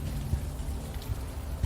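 Rain falling in the game Unavowed, a faint steady patter of light drops with soft low thuds, quiet and continuous throughout.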